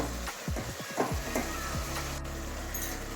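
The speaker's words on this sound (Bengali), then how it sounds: "এভাবে সমস্ত সবজিগুলো শাকগুলো মশলার সঙ্গে ভালো করে কষিয়ে নেবো" Hyacinth beans, eggplant and leafy amaranth greens fry with spices in a pan, giving a steady, even sizzle with a few brief scraping stirs near the start; no one speaks.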